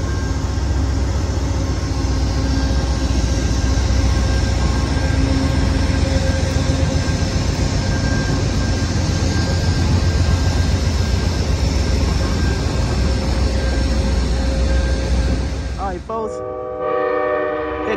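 Amtrak Coast Starlight train no. 14, northbound and hauled by a P42DC locomotive, street running at Jack London Square in Oakland: a loud, continuous diesel rumble with a sustained horn blast, close by, fading near the end.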